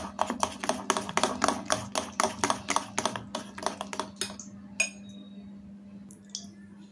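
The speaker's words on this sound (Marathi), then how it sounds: "1-2 मिनिटं कंटिन्यू आपल्याला असं फेटायचं।" A whisk beats salted dahi vada batter in a bowl with rapid, steady clicking for about four seconds. Then it stops, leaving a low kitchen hum and a few faint clinks.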